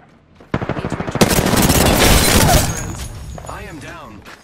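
Automatic weapon fire in the battle royale shooter Apex Legends, a quick rhythmic burst of close shots swelling into a loud continuous barrage that fades out, followed by a voice talking.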